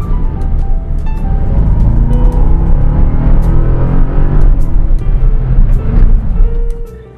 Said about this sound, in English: This engine sounds so good,